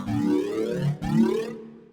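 A wavetable synthesizer patch plays one of the basic mix waveforms as two sustained tones with a shifting, sweeping timbre. The second tone enters after a brief break, and the sound is fairly loud and clean, with no voices.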